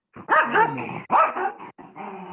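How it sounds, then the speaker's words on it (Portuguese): A fierce dog barks and growls close by in two or three harsh bursts, loud and alone. "tem um cachorro brabo aí"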